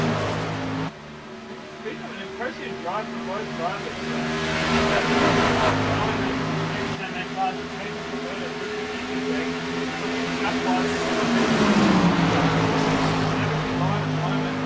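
Racing truck engines in a v8sonline sim race, AUS/NZ truck round: loud engine drone with shifting revs and gear changes, a sharp cut near one second and another near seven, under continuous commentary.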